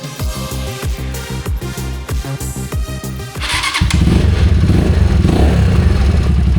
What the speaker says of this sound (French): Maintenant, on la laisse tourner un petit peu pour qu'il y ait bien l'huile qui fasse tout le circuit de la moto.